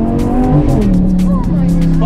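A Lamborghini supercar accelerates hard with loud tire squeal and a steady engine roar close by, while people talk over it.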